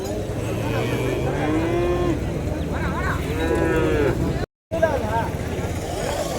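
Cattle and calves at a livestock market, several loud close moos and lowing calls in a busy outdoor setting, with people talking in the background.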